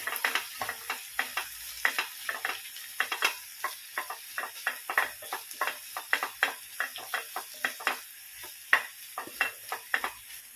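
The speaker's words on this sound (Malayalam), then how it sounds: "നാളികേരം ചിരകിയത് ചേർത്ത് നന്നായിട്ട് മിക്സ് ചെയ്യും" A spoon or spatula scrapes and stirs grated coconut through capsicum thoran in a pan, making a steady series of close, crisp scraping strokes with no talking.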